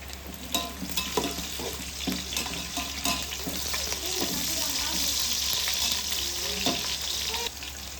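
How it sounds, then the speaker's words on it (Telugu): Onions and green chillies fry in a hot pan with a steady, close sizzle, punctuated by sharp clinks and scrapes of stirring. "ఎర్రగడ్డలు కొంచెం ఎర్రగా అయ్యాక పచ్చిమిరపకాయలు వేయాలి"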